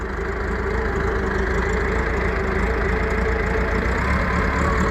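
A Massey Ferguson skid steer's engine runs steadily as the machine slowly turns around, a constant loud mid-low drone close by with no change in pace.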